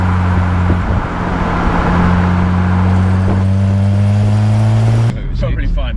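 A Toyota MR2 fitted with a V6 engine revs nearby, holding steady droning tones that climb slightly in pitch before cutting off abruptly near the end.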